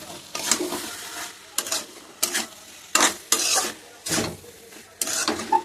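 Fried potatoes and dried fish being stirred in a pan, a run of about seven scraping, sizzling strokes separated by short pauses, close and fairly clear.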